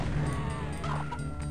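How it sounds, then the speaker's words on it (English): Chickens clucking in the PC shooter Heretic, a dense chatter of fowl noises over steady game ambience, continuous and fairly loud across the short moment. "Yeah, chickens."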